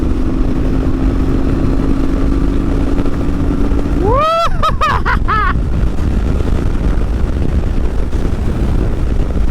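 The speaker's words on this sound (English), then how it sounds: "I'm loving this engine." Harley-Davidson Bad Boy Springer motorcycle engine under way, a loud steady drone with wind roar that rises through quick revving gear shifts midway, then settles back into continuous riding noise.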